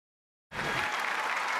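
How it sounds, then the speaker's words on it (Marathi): A television studio audience on the Marathi comedy show Chala Hawa Yeu Dya bursts into loud, sustained applause after half a second of silence, welcoming guest Deepali Sayyed with dense, steady clapping. "तेव्हा जोरदार टाळ्यांनी स्वागत करूयात दीपाली सय्यद यांचं"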